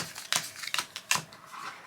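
Crime scene cards for the Scotland Yard Sherlock Holmes Edition board game are shuffled by hand, giving a few sharp papery riffles and snaps at close range with short pauses between them.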